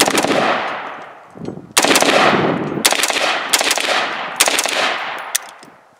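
An AR-style rifle fires several loud, close shots, each a sharp blast with a ringing tail that decays before the next, the gaps uneven, with no talk over them.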